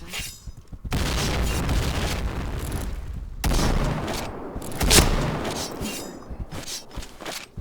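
Heavy in-game blasts rumble and crash close by during Point Blank gameplay. Dense bursts and booms come in several loud waves with a sharp peak midway.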